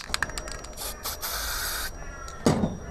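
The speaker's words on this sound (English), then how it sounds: "Spray that in," Short hissing bursts of an aerosol spray applied for rust protection during a GWM Cannon tailgate seal installation, one longer sustained spray in the middle, with nearby clicks and handling noises.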